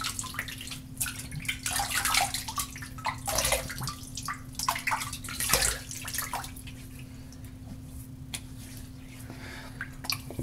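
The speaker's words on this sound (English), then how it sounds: "I'm gonna wipe my face real quick." Water splashes and drips as a face is washed and wiped at a sink, in irregular bursts of splashing and squishing over a steady low hum, with no talking.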